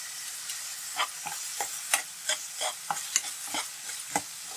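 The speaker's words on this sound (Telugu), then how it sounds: "స్టవ్ మీడియంలో పెట్టుకుని వేపుకుంటున్నానండి" Green chillies frying in a pan over medium heat, a steady sizzle broken by a string of irregular scraping stirs and clinks of a spatula, close and moderately loud, with no talking.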